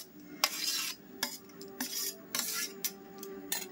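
Chopped cucumber, green chilli, tomato and onion are tipped in and mixed for a moong dal and vegetable snack, giving quiet bursts of spoon scraping and clinking against a bowl, several short strokes with pauses, no voices.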